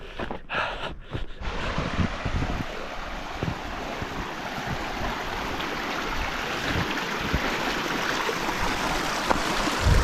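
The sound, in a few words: flowing mountain stream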